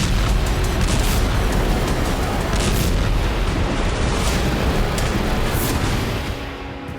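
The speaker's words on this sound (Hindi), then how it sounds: "सेवेस्तोपोल आसमान धमाकों से गूंज रहा था।" Loud, sustained booming of explosions over Sevastopol during a wartime strike, a dense continuous rumble with repeated blasts lasting throughout, fading slightly at the end.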